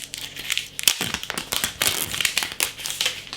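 Crinkly foil or paper wrapper being peeled by hand from a Brand Urtyp Pilsener beer torp for a Krups subcompact tap, a close, busy run of crackling and tearing rustles lasting a few seconds without talk.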